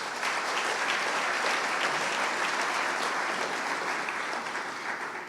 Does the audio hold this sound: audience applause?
yes